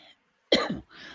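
A single close, throaty cough bursts out after a moment of near silence, followed by a brief breathy exhale.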